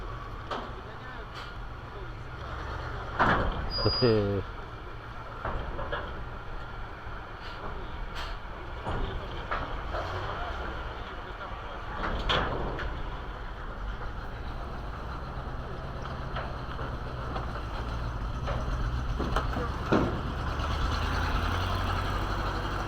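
A Zil truck rolls off an engineless river car ferry on the Dniester near Tiraspol, its low engine rumble steady and moderately distant. Voices and scattered clanks come through over it.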